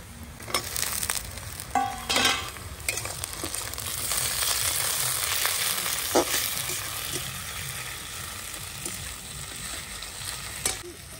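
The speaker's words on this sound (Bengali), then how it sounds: "এবার দিয়ে দেবো টমেটো কুচি" Chopped tomato dropped into hot oil over browned onions in a pan on a wood-fired village stove, hissing in a steady close sizzle with scattered pops and sharp stirring scrapes throughout.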